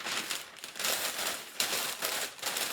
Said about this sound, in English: Ball up your paper.